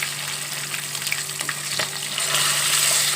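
Two fish fry in hot oil in a pan, giving a loud, continuous sizzle that grows brighter and more intense toward the end, with no voices.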